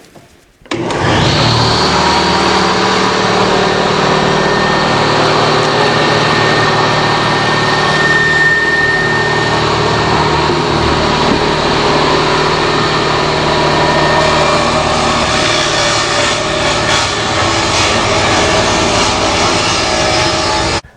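A power tool cuts halfway through a metal shelf from a large gas grill, giving a loud, steady high-pitched whine with a rough grinding edge that runs almost unbroken for about twenty seconds and stops abruptly at the end.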